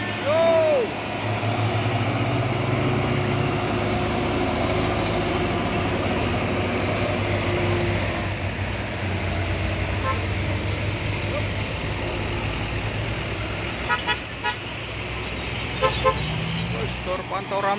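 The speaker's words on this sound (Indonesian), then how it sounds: "Terpantau ramai truk-truk yang akan mau menanjak ini." Heavy trucks, including trailer and tanker trucks, rumble and drone while climbing a hill, engines straining steadily, with a few short horn toots and brief shouts near the end.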